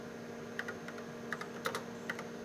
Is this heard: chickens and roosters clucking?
no